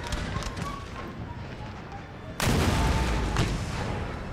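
Cannon artillery booms in an Empire: Total War battle, a sudden heavy blast about halfway through over steady battlefield rumble, with no talk.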